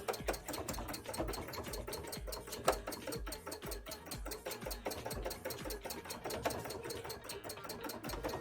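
A sewing machine stitches a bra onto black fabric with a steady, rapid mechanical chatter throughout, moderately quiet and close, with no talking.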